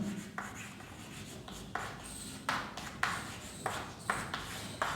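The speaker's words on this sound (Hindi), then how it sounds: "तो यहां एक लाइन लिखता हूं" A marker or chalk writes a line on a classroom board, with soft scratchy strokes and short squeaky accents over a steady noisy room background and no talking.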